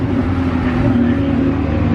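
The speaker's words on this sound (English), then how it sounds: "all the cars are going out on track now" A steady engine drone with a low hum carries on throughout at moderate distance, like cars running on the Silverstone circuit, with no talking.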